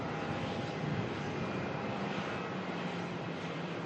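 Qantas aircraft QF919 arriving at Melbourne from the Sunshine Coast, a continuous broad jet engine roar heard steadily at moderate loudness, even and unbroken, with no talking.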